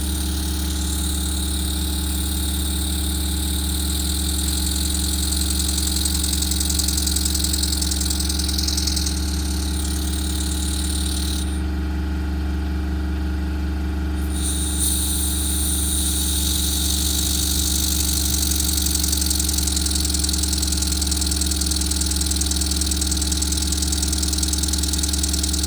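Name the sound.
Clevedon Steam Libra twin cylinder steam engine running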